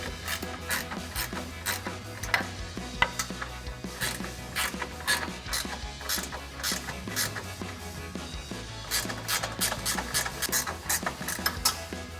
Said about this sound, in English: you now use your 14mm wrench or the provided hardware to tighten this down